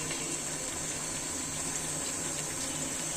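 Broth pours steadily into beef curry in a pressure cooker, a continuous close gushing liquid sound with no breaks from start to finish.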